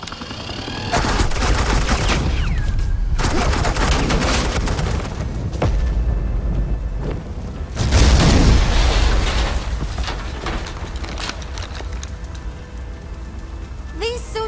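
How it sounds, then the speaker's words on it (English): Dense, sustained suppressing gunfire rattles from a scene in the video game Batman: The Enemy Within, a loud continuous barrage of shots with heavier bursts partway through. "This is Agent Quinn, suppressing fire."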